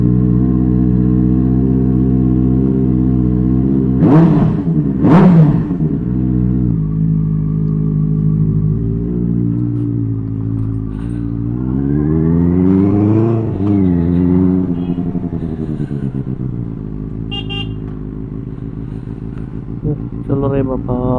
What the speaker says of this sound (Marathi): चला तर कोल्ड स्टार्ट करून निघूया आपण।